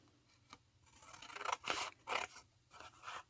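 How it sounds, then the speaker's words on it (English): Pinking shears snip through paper while a Christmas journal is being crafted, giving a few crisp, close cutting crunches in quick succession after a quiet start. "why have I got pinking shears?"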